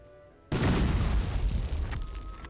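A Browning automatic rifle fires in the Medal of Honor video game, a loud, sudden burst that breaks a quiet moment and rings out with a heavy booming tail for about two seconds.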